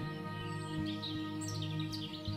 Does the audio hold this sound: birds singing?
yes